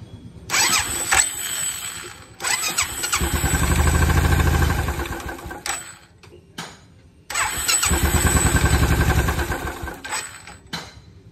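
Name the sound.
Royal Enfield Bullet motorcycle starting with repaired self starter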